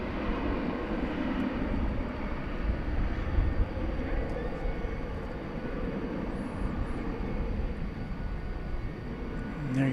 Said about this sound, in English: American flight 1434 to Vancouver, an Airbus A321 is now taxiing and rolling down the runway on 18 left.